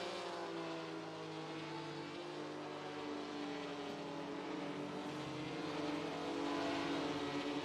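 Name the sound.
race car engines downshifting, from a sim racing video game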